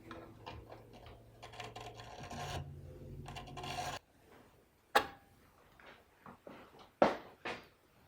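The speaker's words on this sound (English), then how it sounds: "I'll just rub this nut up against the belt sander here, but I won't turn it on" A bass guitar nut is rubbed by hand across the belt of a switched-off belt sander, giving a dry rasping scrape in repeated strokes, followed by a few scattered knocks and handling taps.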